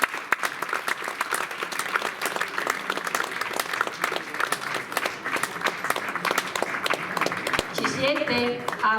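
An audience in an Italian hall gives a long round of applause for volunteers at a music event, sustained clapping of many hands for about nine seconds, with a voice speaking over it near the end.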